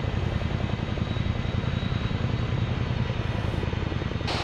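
A Chinook helicopter in the game ArmA 3 drones close by, a loud steady engine roar with a fast rhythmic rotor throb running continuously throughout.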